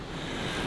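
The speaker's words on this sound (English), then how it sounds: "a really blustery day today" Strong, blustery winter wind buffets the microphone in a steady, dense rush with no voices, a brief close roar of gusting air outdoors.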